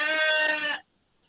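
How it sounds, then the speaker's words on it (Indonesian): A goat on farmland among rice fields gives a single loud, close bleat that lasts under a second and then cuts off into silence. "Wow, suaranya kambing itu."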